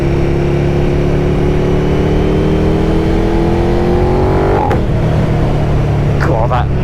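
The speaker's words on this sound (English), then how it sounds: "God, that noise when you change gears with the quick shifter is awesome." KTM 1290 Super Duke R motorcycle engine revving loud and close, the pitch climbing steadily until a quick shifter gear change near the end breaks it, with a fresh rise after.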